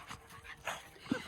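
Dogs romp and play together, with quick breathy panting and a soft whimper close by, fairly quiet and with no one talking.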